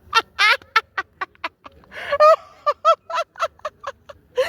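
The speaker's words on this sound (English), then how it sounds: "Look at that seagull." A seagull perched on a very expensive car gives a run of loud, close calls, a series of sharp harmonic squawks and one longer wailing cry, with no talk over them.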